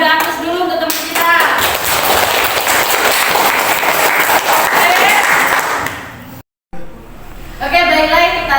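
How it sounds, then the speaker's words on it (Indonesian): A class of schoolchildren applauds a classmate indoors, with loud, steady clapping for about six seconds before a brief cut, after which a teacher talks. "kita beri aplaus dulu untuk teman kita"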